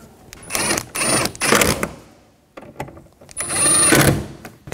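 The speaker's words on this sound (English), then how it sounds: "reinstall this bracket and put these screws in. Tighten these down." Screws are driven in to reinstall a side mirror bracket on a 2004-10 Toyota Sienna. Several close, buzzing bursts come with short pauses between them, and no one speaks.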